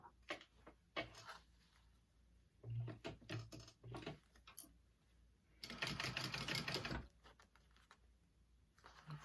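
A sewing machine stitches a zipper section on a mini backpack in short runs of rapid mechanical whirring, with one longer burst of sewing and clicks of handling in between, close and fairly quiet.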